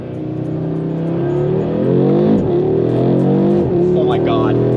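An Audi RS3 accelerates hard with a loud, close engine drone rising steadily in pitch, with brief dips at gear changes before climbing again.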